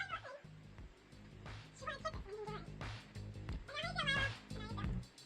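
A cat meows and caterwauls close by in repeated drawn-out, wavering cries while a person talks over it throughout.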